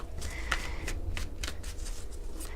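Tarot cards are shuffled in quick, soft riffling bursts, faint and close, with a low room hum underneath and no talking.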